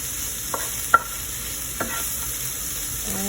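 Onions and cumin stir-frying in a pan, giving a soft steady sizzle with a few light scrapes and taps from stirring, close by and with no talking.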